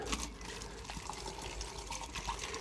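A 10 litre watering can pours into an in-ground watering reservoir in a greenhouse bed, making a steady, close splashing fill that runs without a break.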